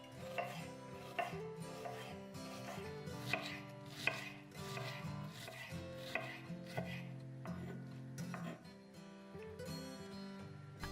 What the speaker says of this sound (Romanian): Între timp tocăm 2 cepe mărunt.